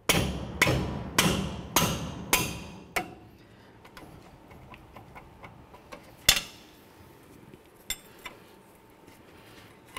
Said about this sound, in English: remove our two 18 millimeter mounting bolts for our caliper. Just take a wrench.